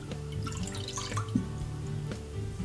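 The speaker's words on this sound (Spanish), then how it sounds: "le ponemos el agua" Water pours steadily into a cooking pot for white rice on the stove, a continuous splashing, gurgling stream up close with no voices.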